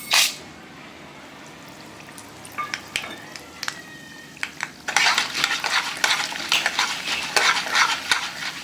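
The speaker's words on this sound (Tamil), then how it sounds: "கடுகு, உளுத்தம் பருப்பு, காஞ்ச மிளகாய், கலப்பு எல்லாத்தையும் ஒன்றா கொட்டிக்கலாம்." Mustard seeds, urad dal and dried red chillies tossed into hot ghee and oil for rava upma, first a few light clinks of a metal spoon, then a loud bursting sizzle and crackle of popping seeds.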